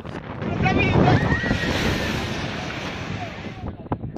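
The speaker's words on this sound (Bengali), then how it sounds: "ফুলে ফেপে উঠেছে সমুদ্র, গার্ডওয়াল টপকে আছড়ে পড়ছে ঢেউ।" Stormy sea waves crash over a guard wall at Digha during heavy rain, with a loud continuous roaring surge and buffeting wind rumbling against the microphone.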